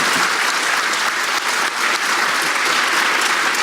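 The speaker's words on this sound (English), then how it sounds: "So can we give them a big round of applause?" Symposium audience applauding the panel speakers, dense even hand clapping from a sizable crowd, loud and continuous throughout without talk.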